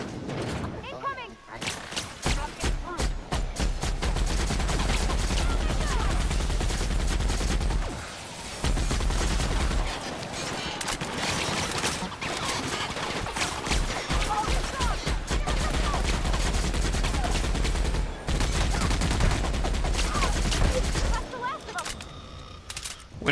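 Rapid bursts of gunfire from The Outer Worlds video game ring out loud and nearly continuous, with brief pauses between volleys, while a player talks over the shooting.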